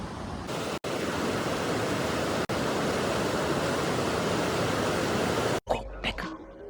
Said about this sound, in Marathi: फायनली इतक्या अथक परिश्रमानंतर आम्हाला नदी सापडलेली आहे